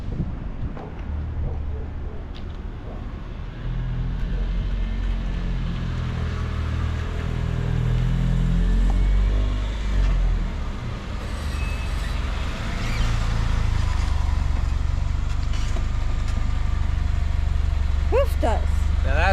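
A Honda Civic hatchback converted into a small pickup truck drives along the road, its engine rumbling low and steady throughout under wind buffeting at the microphone.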